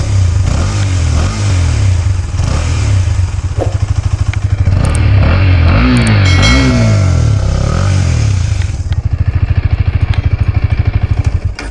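A KTM Duke 250 motorcycle engine idles with a loud, close rumble, then is revved several times in quick bursts before settling back to a steady throb.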